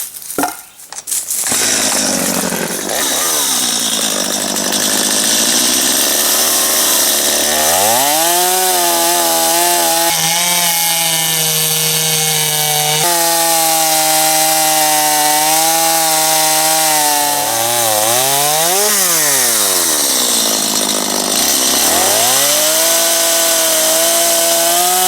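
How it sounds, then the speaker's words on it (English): A chainsaw roars continuously, its pitch rising and dropping as it bogs into a log and revs back up, loud and close throughout. "That wasn't very satisfying. This chainsaw sucks."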